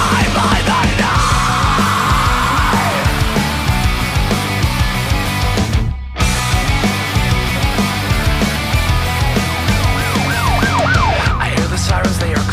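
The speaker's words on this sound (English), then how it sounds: "I hear the sirens, they are closing." Wailing sirens rise and fall over a dense, loud musical backdrop, with a brief dropout midway before the sirens return toward the end.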